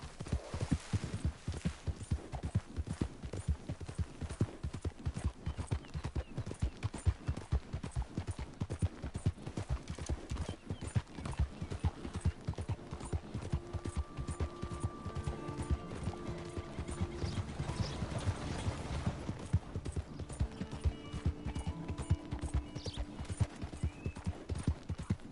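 Horse hooves clip-clop at a steady, even gait in Red Dead Redemption 2, continuous and moderately close, with faint mechanical clinks and tones drifting in the background.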